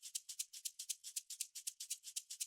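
Deep house shaker loop with sidechain pumping, a continuous stream of bright, hissy shaker strokes swelling and ducking in a regular groove, heard alone and close.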